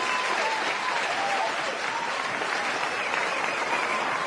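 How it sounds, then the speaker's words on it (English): A canned crowd applause effect, played on cue during a podcast, rises as a dense, steady wash of clapping and cheering that holds at an even level. "Round of applause."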